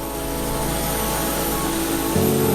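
Steady, loud drone of an airplane in flight on the short hop between Bali and Lombok, a constant engine roar with a slight shift in tone near the end and no voices.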